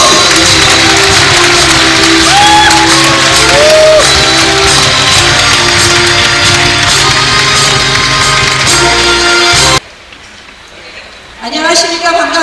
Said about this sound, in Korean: 많은 분들 모두 뜨거운 박수로 나경원 의원님 환영해주시기 바랍니다